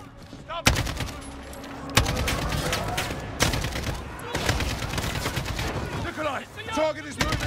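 Video game gunfire in Call of Duty Modern Warfare, with repeated loud sharp shots and bursts in an urban firefight, mixed with voices talking.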